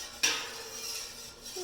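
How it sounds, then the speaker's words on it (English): A metal spoon clinks once against a pot while stirring a marigold dye bath after washing soda is added, followed by faint sloshing liquid. "All right, I'm going to stir this up."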